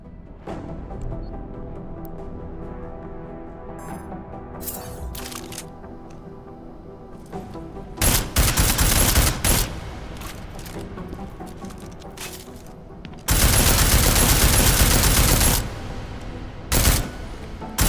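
Video game gunfire aimed at an armored target: bursts of rapid rounds, with heavier sustained volleys around the middle and a long loud barrage near the end, separated by quieter gaps.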